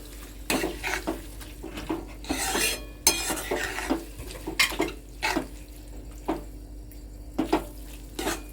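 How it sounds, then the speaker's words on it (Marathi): Prawns being stirred and sautéed in a pan for kolambi masala, with repeated scraping strokes of a spoon against the pan in an uneven rhythm over a low background sizzle. "कोलंबी चांगली परतून घ्यायची"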